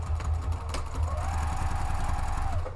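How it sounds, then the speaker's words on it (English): A sewing machine stitches a seam on a drawstring picnic bag, a steady close mechanical whir with a rapid chattering pulse and a faint rising motor tone. "stitch down that right hand edge with the 5/8 of an inch"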